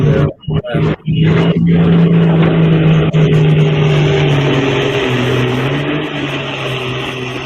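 Truck engine at the Golden State Invitational truck and tractor pull in Madera, California: a loud, sustained, droning roar that briefly breaks up at the start, then holds steady and slowly eases off.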